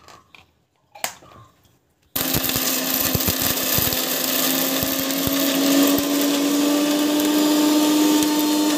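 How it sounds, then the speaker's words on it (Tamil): A mixer grinder grinding chutney starts abruptly and runs loud and steady, a continuous whirring grind with rattling, after a few quiet clinks. "நம்ம வந்து மிக்ஸில போட்டு அரைச்சிக்கலாம்"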